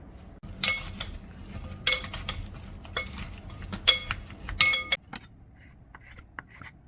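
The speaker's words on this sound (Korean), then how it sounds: "먼저 오이를 채 썰어 소금에 절여 놓고요." A knife cutting cucumber into thin strips on a board makes several sharp, irregular strikes and clinks with quiet gaps between them, close and fairly crisp, with no voices.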